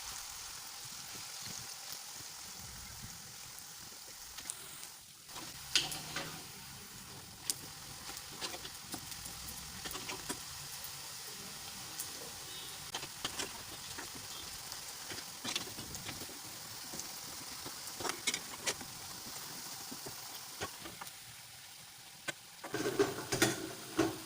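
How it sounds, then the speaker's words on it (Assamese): Homemade crispy Assamese pakoras deep-frying in hot oil, a steady close bubbling hiss with scattered crackles and pops running throughout, no voices. "এনেদৰে মই গোটেই পকৰিখিনি ভাজি ল'ম"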